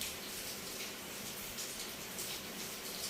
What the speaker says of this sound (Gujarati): આ પૂઠું લઈએ છીએ, એના ઉપર આપણે પાણી નાખીએ છીએ